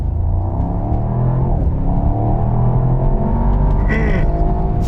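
A 2022 Mercedes-AMG SL's V8 engine rumbles loudly and continuously through its factory exhaust with deep, throaty revving, rising in pitch briefly near the end.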